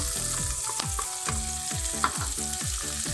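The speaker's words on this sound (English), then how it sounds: "I heard sizzling." Steady, close sizzling of onion frying in a pan, with repeated scraping strokes of a utensil stirring through it; no voices.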